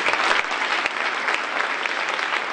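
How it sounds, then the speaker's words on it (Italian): Audience applause at an international poetry award ceremony, a dense, steady wash of many hands clapping close and loud throughout, with a few sharper claps standing out near the start. "noi lo salutiamo con questo applauso"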